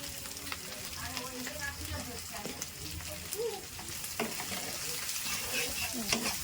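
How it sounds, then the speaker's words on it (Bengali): Sliced onions frying in oil in a village kitchen pan as turmeric powder goes in: a loud, steady sizzle runs throughout, with faint stirring scrapes and clinks mixed in. "পেঁয়াজগুলো ভাজা হয়ে গেছে, এবার এতে দেওয়া হচ্ছে হলুদের গুঁড়ো"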